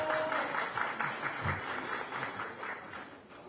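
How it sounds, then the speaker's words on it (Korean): Audience applause at a Democratic Party political rally in Yeonggwang County, South Jeolla, a steady wash of clapping from a crowd, moderately loud throughout with no speech over it. "박수 쳐주는 거 보니까요"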